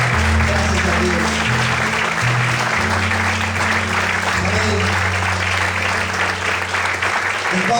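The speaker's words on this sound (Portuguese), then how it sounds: "Vamos glorificar ao Senhor e aplaudir a Ele nessa noite." A church congregation applauds during a worship service, a continuous wash of clapping that lasts throughout, with a voice speaking and sustained low organ or keyboard tones underneath.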